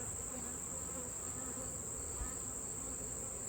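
Honey bees buzzing around a hive during a honey harvest, a steady, dense droning hum from many bees close by, continuous and even throughout.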